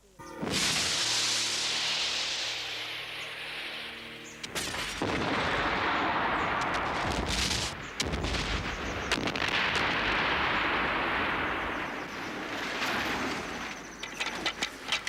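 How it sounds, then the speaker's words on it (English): A model rocket launch blast staged for a film, a loud sustained roaring hiss with crackling bursts that continues for many seconds at close range. "3, 2, 1, fire."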